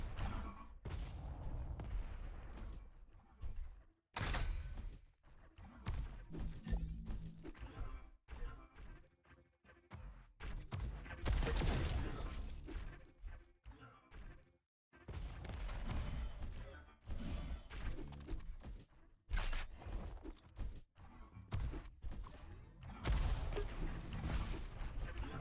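Rocket launcher fire in a Diabotical pro duel match, repeated loud blasts and explosions in quick bursts, separated by short gaps, with heavy impact rumbles throughout.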